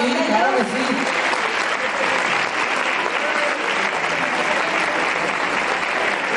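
Audience applause at a solidarity awards ceremony in Marbella, a loud, close, continuous burst of clapping from a crowd with a few voices mixed in.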